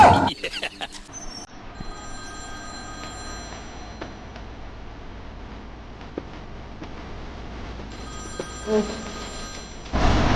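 A telephone rings steadily in a quiet room, its tone repeating for several seconds before a louder noise cuts in at the end.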